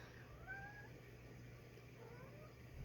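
A house cat gives a faint, drawn-out meow, then a softer second call, set against steady low background hum with no talking.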